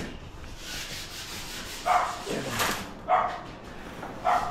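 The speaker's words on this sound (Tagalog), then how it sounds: "Ayan, nagliliha na po sila." Steady scraping and rubbing of sandpaper on a wall during a home renovation, with a few brief dog-like barks cutting in over the continuous abrasive noise.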